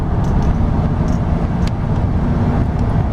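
Ford Crown Victoria Police Interceptor K-9 unit with about 100,000 miles accelerating, a steady loud engine rumble and road noise close by without a break, with no voices.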